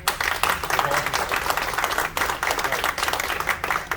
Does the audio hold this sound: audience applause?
yes